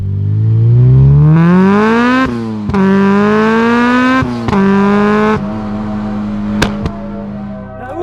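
A Honda Civic EP3 Type R engine revs hard and loud up toward the limiter, climbing in pitch, dropping, then rising again in repeated sustained pulls with brief pauses and sharp cuts between them.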